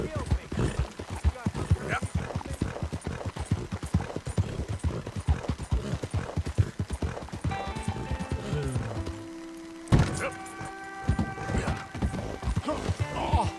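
Rapid, steady horse hoofbeats clatter continuously in Red Dead Redemption 2, with a whinny near the end; the hooves sound close and fairly loud.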